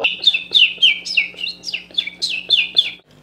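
A voice imitates bird calls: a quick run of about a dozen high, chirping whistles in steady rhythm, close and fairly loud over a low hum.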